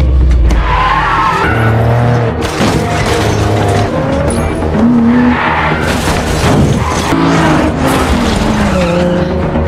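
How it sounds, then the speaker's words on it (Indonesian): A car in an action film speeds away from a club with tires skidding and squealing, the engine roaring loud and continuous amid booms and chaotic crash noise throughout. "Finn dan Thomas berusaha kabur dengan menggunakan sebuah mobil yang dipamerkan di klub itu"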